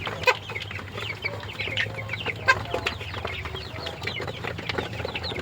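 Many chickens cluck and chatter continuously on a poultry farm, a dense flock close by with no talking over it.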